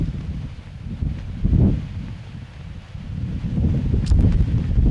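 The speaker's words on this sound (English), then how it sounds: "we have a quite windy day today. The flag is just flopping in the wind" Gusty wind buffets the microphone in low rumbling surges, with soft fluttering and flapping of cloth rising and falling across the gusts.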